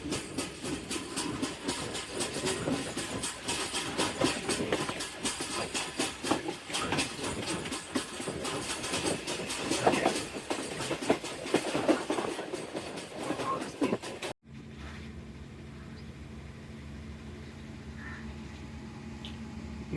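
A train pulls into Chichawatni railway station, with steady loud rolling rumble and wheel clatter for most of the stretch before it cuts abruptly to a quiet low hum.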